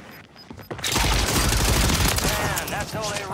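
Gunfire in the Call of Duty Warzone gulag bursts in as a loud, dense volley of rapid shots after a brief quiet start, close and sustained, with a voice talking over it.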